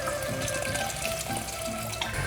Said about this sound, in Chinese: 放入过滤水